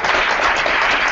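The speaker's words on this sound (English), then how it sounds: "Give it a applause." Audience applause at a Japanese startup pitch event in San Francisco, a dense, steady burst of many hands clapping together, loud and close, with no talking over it.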